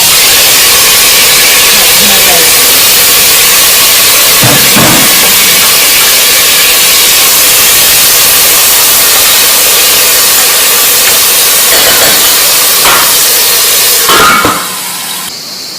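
Ingredients hit very hot oil with browned garlic and onion while making a zucchini pasta with fresh tomato sauce, giving a loud, steady hiss and sizzle that fills nearly the whole stretch before cutting off abruptly near the end.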